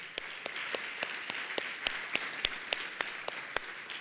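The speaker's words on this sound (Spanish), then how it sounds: "Dale un aplauso a Dios." Clapping for God at a church youth Bible study, heard as quiet, evenly spaced claps in a steady rhythm of roughly three or four per second over a soft room background.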